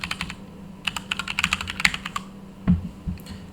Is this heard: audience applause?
no